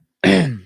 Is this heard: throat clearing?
yes